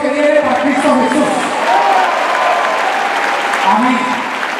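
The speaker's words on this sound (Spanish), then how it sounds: "Y ese aplauso que viene para Cristo Jesús." A charismatic church congregation applauds loudly, with crowd cheering and shouting voices mixed into the steady clapping throughout.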